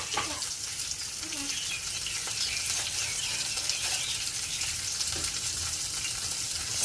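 Shredded cabbage frying in a pan with curry leaves and chili for ginisang repolyo, a steady close sizzle and crackle running continuously with faint stirring scrapes.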